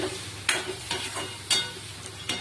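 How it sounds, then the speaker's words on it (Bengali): Fish curry being stirred and cooked down in a pan, a close sizzle with three or four distinct scraping strokes of a spatula at a regular pace. "আর এবার নেড়ে কষিয়ে নেবো ভালো করে,"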